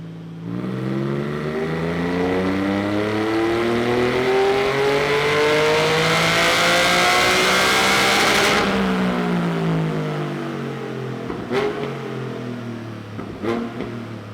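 Porsche 718 Cayman GT4 fitted with sport exhaust headers revs hard on a dyno, its loud engine note climbing steadily in pitch across a long pull, then cutting off and settling to idle with a couple of short throttle blips.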